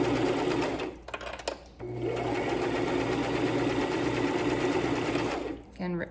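A sewing machine runs a straight stitch along lanyard fabric, a loud, steady, close-up whirring that pauses briefly near the start and then runs continuously until near the end.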